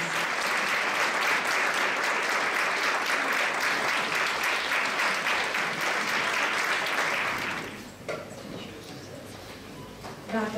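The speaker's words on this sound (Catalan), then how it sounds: "un aplaudiment i moltes gràcies" Audience applause at a children's charity festival for Mans Unides in Gironella, dense sustained clapping for about seven seconds before it fades out, followed by quieter room sound.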